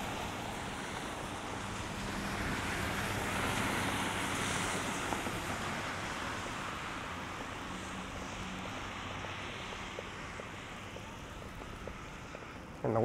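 Wind blowing straight into a camera on a snowy Toronto walk in December, a steady, close rushing roar of buffeting air that runs throughout with only slight swells.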